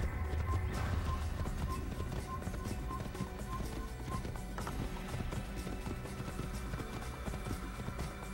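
Horse galloping in the video game Assassin's Creed on Xbox 360, a steady dense drumming of hooves running throughout at constant loudness, layered with game music and ambience.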